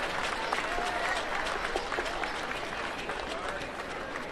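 A stadium crowd at a women's rugby sevens final in Langford applauds the teams with sustained, dense clapping and cheering at an even level. A voice can be heard faintly beneath it.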